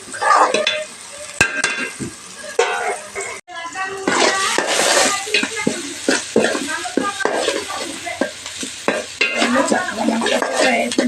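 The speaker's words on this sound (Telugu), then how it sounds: "ఈ ఫ్రై అయ్యేదాకా మనం ఇలా కలుపుకోవాలి" Food frying in a pan while being stirred before rice is added, with loud close sizzling and frequent clattering scrapes of a spoon against the pan, with some speech-like sound mixed in.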